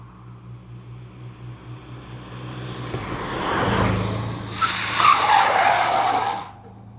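A car pulls up on the road, its engine noise building to a broad swell and tyres squealing briefly near the end before it quickly falls quiet, heard alone at moderate distance.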